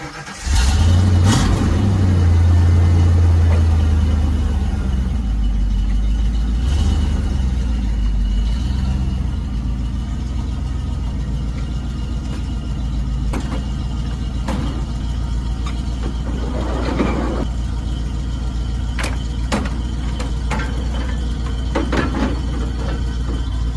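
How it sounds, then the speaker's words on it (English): A 1991 truck engine idles and runs steadily throughout, loud and close, with a low rumbling drone, a few brief revs and some scattered clunks and handling noises around it. "But okay, let's get this truck moved."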